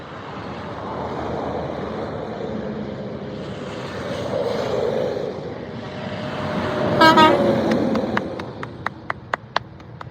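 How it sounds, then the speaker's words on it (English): Big 18-wheeler trucks roll past on a highway with a steady roadside rumble and wind wash, then one blasts its horn in a loud burst followed by a string of short, sharp toots that fade as the truck goes by. "I'm not a weird guy down by the highway crying over 18-wheelers passing by"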